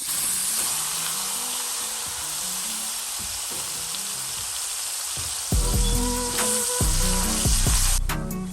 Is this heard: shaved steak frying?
yes